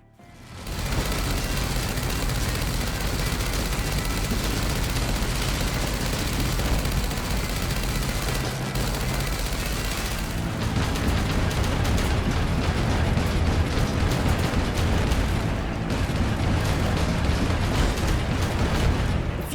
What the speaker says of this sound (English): FUMES does well to balance the cacophony of explosions and grinding metal